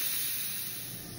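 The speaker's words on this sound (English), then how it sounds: "So I'm gonna release the steam." Steam released from a quick cooker after cooking corn makes a steady, loud, continuous hiss that holds for the whole moment and fades only slightly toward the end.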